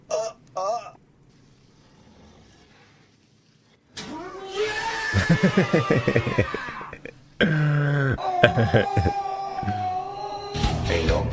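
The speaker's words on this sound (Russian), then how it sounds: "Это мой кот." A domestic cat meows a few times, the meows rising and falling, alongside loud nearby talk and exclamations from a man.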